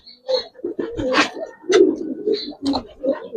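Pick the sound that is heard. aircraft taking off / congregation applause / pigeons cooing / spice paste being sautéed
pigeons cooing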